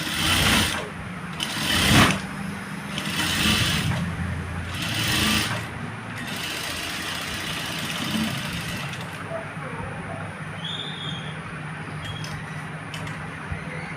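A sewing machine stitches a boat neck on a churidar in several quick, loud whirring bursts early on, then falls to a quieter hum with faint mechanical ticks.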